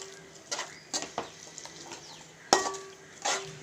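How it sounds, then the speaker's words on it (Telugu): A spoon scrapes and clinks against a pot while egg biryani mixture is stirred, giving several separate knocks and scrapes with quiet gaps between them and no voices. "ఇప్పుడు దీన్ని బాగా మిక్స్ చేసుకోండి"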